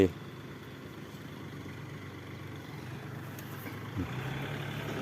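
A tractor engine runs steadily in a rural Thai village, giving a low, continuous rumble at moderate distance with a slight rise near the end. Faint voices may sit in the background.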